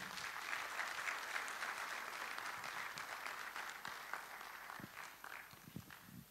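A crowd at a medical college's annual general and scientific meeting breaks into applause, a steady wash of many hands clapping that thins out toward the end into a few scattered louder claps.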